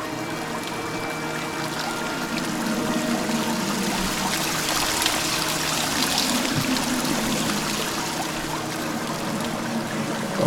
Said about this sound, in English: Oh hey, I'm on top of the waterfall.